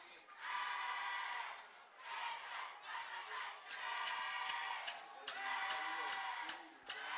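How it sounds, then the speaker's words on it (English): Crowd at a high school football game between Coupeville and Klahowya, heard as swelling waves of cheering and chatter in a large open space, rising and falling several times. "you can hear a pretty good crowd down there tonight"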